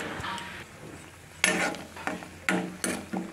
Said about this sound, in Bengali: একটু বড়ি ভাজবো